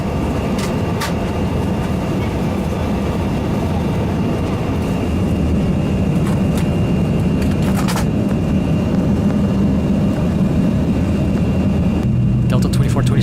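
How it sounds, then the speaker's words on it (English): Delta Embraer 175 airliner on final approach into San Diego, heard from the cabin as a loud, steady roar of engines and airflow with a few faint clicks and knocks, a brief shift in tone near the end. "We'll be landing shortly."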